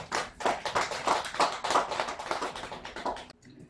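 Scattered hand claps from a small group at a Buddhist temple service, irregular and close, fading out after a few seconds.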